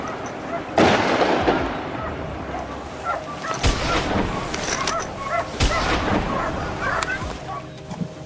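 Gunshots ring out during a wild boar hunt on a mountainside, with a few sharp loud cracks standing out against a busy outdoor background.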